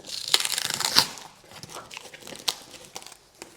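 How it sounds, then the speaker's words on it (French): A parcel's paper and cardboard being ripped open and crinkled in short, sharp bursts, close by, with irregular tearing sounds and pauses. "Je suis en train de le déchiqueter complètement."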